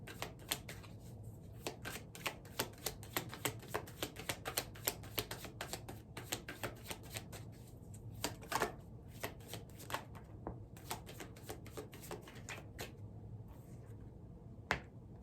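Tarot cards riffled and shuffled by hand, a long run of sharp, rapid papery snaps and flutters in irregular bursts, close and crisp over a low steady room hum, with no talking.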